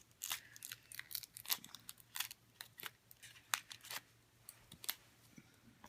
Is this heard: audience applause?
no